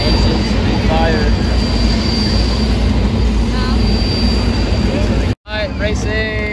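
NASCAR race car engines fire up together in a loud, continuous roar that fills the whole stretch, broken by one brief dropout before the din resumes, with voices faintly audible in the crowd noise.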